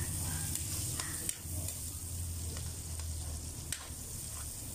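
Seasonings for pork stick sauté in a pan, giving a steady close sizzle with occasional scraping stir strokes and light clinks throughout.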